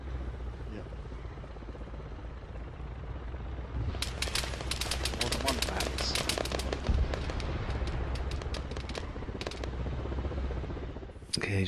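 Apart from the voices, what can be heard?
gunfire in the video game Arma 3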